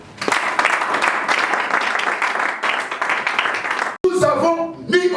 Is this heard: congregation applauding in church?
yes